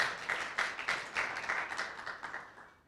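Brief audience applause for a presenter at a learning space design talk, a short scattered burst of clapping that gradually fades out, fairly faint and without talk.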